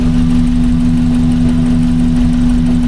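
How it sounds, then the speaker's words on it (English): A 1982 VW Westfalia engine idling at about 700 RPM, a loud, steady low hum with an even pulsing rumble, close and continuous with no voices. "Boy, does that ever run nice compared to the old Volkswagen motor, eh?"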